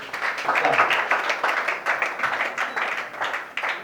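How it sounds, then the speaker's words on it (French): Audience applause at an evening awards ceremony in a hall, a steady wash of many hands clapping at close range with scattered cheers and voices mixed in, holding throughout. "Applaudissez s'il vous plaît."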